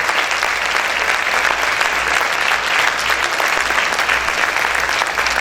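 A church congregation claps hard for the Lord in a continuous, even roar of applause that fills the room from start to finish, with no speech on top.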